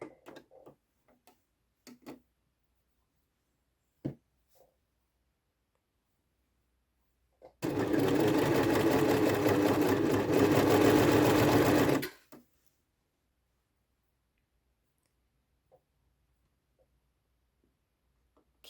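A sewing machine stitches the raw edges of folded activewear fabric in one steady, close, rapid run of several seconds, with faint clicks and handling noises before and after.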